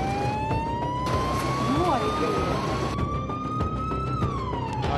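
Emergency vehicle sirens wail loudly and steadily at an ambulance crash scene, rising and falling in pitch over constant street noise.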